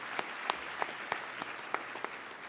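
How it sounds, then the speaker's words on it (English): A small group of conference attendees gives a sparse, faint round of applause for a physician speaker, with individual claps arriving at a slow, uneven rhythm. "another round of applause for the Foodie physician"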